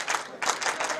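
At an American football game between the Warsaw Sharks and Bydgoszcz Archers, the crowd applauds as an injured player walks off the field, a short burst of scattered clapping in two quick swells.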